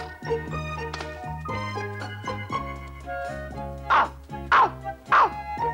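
A dog barks in an animated cartoon, three sharp barks near the end after a stretch of background music, close and loud against the score.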